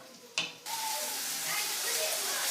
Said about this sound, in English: After you hear it sizzling, take it off and stir it a little bit.